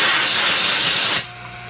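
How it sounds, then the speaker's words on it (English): An air compressor nozzle blasts a loud, close, continuous hiss of air onto a chainsaw chain grinding stone, then cuts off abruptly near the end, leaving a quieter room tone. "and I like to take the air compressor"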